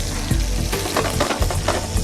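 Seafood fries in butter and oil in a pan, a steady loud sizzle with crackling spatter and a few soft stirring clicks, close up and continuous with no voices.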